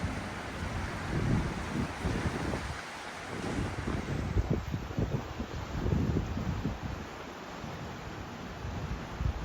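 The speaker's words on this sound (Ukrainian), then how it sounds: "Ветер, шторм." A stormy autumn Black Sea at Odesa roars under strong wind, a dense, constant rumble of surf with gusts buffeting the microphone and rising and falling swells, with no voices.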